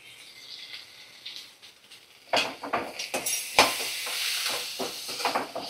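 Cumin paste and ginger-garlic paste fry in a pan over a medium flame. After a quiet start, a sudden sizzle bursts up and keeps crackling, broken by clinks of a spoon stirring the spices.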